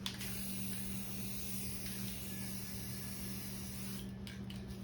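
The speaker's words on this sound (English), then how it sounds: "But it's not spraying enough. It's too sparse." Spray paint can hisses in a steady, continuous spray at close range under a low electrical hum, with the hiss cutting off briefly near the end.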